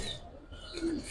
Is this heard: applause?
no